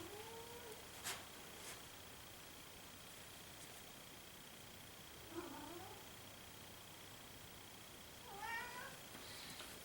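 A studio cat meows a few times in the background during a landscape painting session, the calls short and rising, spaced apart over a steady hiss of room noise.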